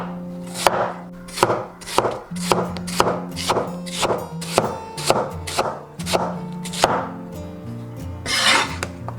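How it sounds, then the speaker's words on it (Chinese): A knife chops peeled Chinese yam into diamond-shaped pieces on a cutting board, giving a run of about a dozen crisp, evenly spaced thunks, close and loud, with no voices. "把山药切菱形块"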